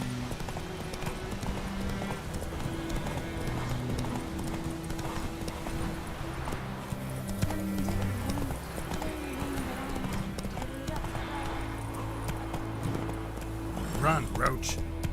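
A horse in The Witcher 3 gallops with rapid, steady clip-clop hoofbeats and gives an occasional neigh, continuous and close, with game music and sound effects beneath.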